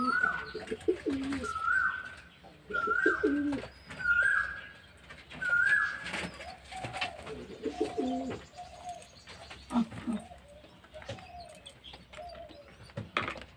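Baby pigeons being fed deworming medicine mixed in water call close by in a steady series of short, rising cooing squeaks, about a dozen in quick succession, fairly loud and with no talking over them.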